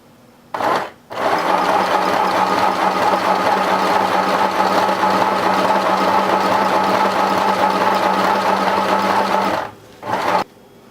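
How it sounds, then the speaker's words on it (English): Sewing machine running a steady zigzag stitch across ribbon squares, a continuous whirring hum lasting about nine seconds after a brief start, close and loud, stopping with a short final burst. "And we're just going to start zigzagging."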